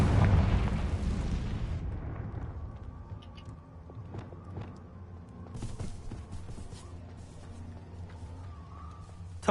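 A Confringo blasting spell explodes in a video game with a heavy, booming blast at the start that rumbles and fades over several seconds, followed by quieter ambient game sounds and a few small crackles.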